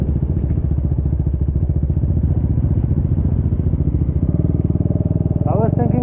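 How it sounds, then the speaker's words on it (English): A Husqvarna Vitpilen cafe racer motorcycle riding over a rough road, its engine thrumming loudly and steadily with rattling clatter underneath. "this bike is not suitable for all these kind of roads."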